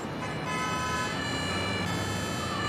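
Ambulance siren in the firefighting and rescue game Emergency 5, a loud, sustained wailing tone with a rumbling vehicle bed beneath, playing alone with no talk.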